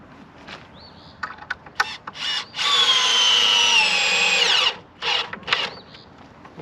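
A 12-volt cordless driver runs a screw into wood in several short, sharp bursts and one long whining drive of about two seconds, each burst starting and stopping abruptly. The tool is close and loud.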